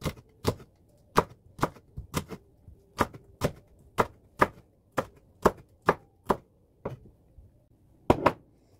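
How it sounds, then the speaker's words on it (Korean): A red chili pepper being sliced with a knife on a cutting board, a series of crisp, evenly spaced chopping taps close by, about sixteen cuts with brief pauses, no talking. "그 다음에 홍고추 하나 송송 썹니다."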